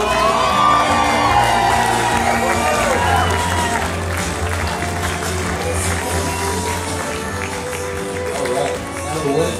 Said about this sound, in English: keep your hands clapping, ladies and gentlemen.